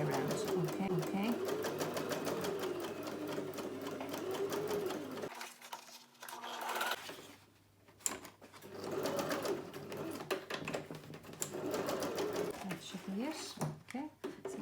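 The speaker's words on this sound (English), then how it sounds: "I'm stitching on the blue, around the blue and the white, and all the way around." Sewing machine stitching around the border of a Christmas card, a steady rapid mechanical whir that pauses briefly and resumes, with someone talking over it.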